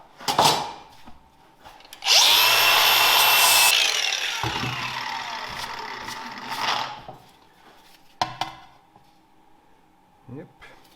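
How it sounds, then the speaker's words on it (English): A power tool grinds and abrades a Lada exhaust pipe to clean it before welding, in a loud sustained burst of a couple of seconds that tapers off, with short scraping and handling noises afterward. "Now I'm going to clean for welding."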